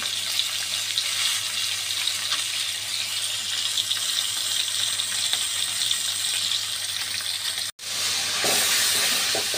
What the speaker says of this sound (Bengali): মাছ ভাজতে দিয়েছি